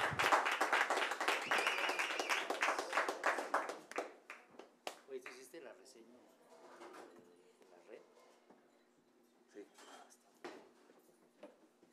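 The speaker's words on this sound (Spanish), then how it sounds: "Un aplauso." Audience applause for a jazz quartet at a live club concert, dense clapping for the first few seconds, then thinning to scattered claps and a few isolated hand claps as the room quiets, faint voices murmuring underneath.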